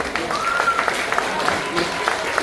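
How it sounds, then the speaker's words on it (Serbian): Scattered audience applause at a Vidovdan festival opening held by a folk society in Gmunden, Austria, greeting child reciters; individual claps patter unevenly with a speaking voice briefly over them. "Molim vas da ih pozdravite jednim aplauzom."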